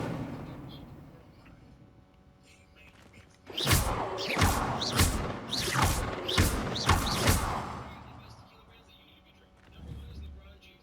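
Incendio fire spell cast repeatedly in Hogwarts Legacy, giving about six loud, rapid fiery bursts in a tight cluster that rise above quieter game ambience, with some voice mixed in.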